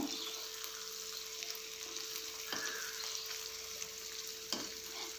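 An egg fries in oil in a pan, giving a steady close sizzle with a couple of brief scraping knocks from a turner, alone with no voices.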